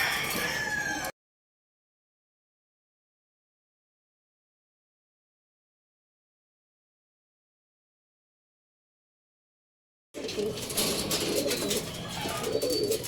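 Pigeons coo and flutter nearby, with a rooster-like call mixed in; the sound cuts out to silence for several seconds, then resumes busily.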